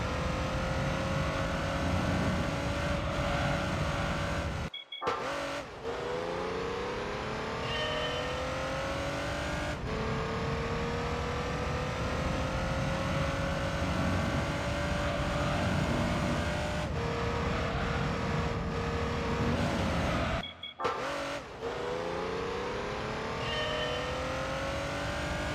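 A race car engine in the Gran Turismo 3 video game held at high revs without upshifting, a loud sustained drone that sweeps in pitch, with brief cuts near five and twenty seconds before it climbs again.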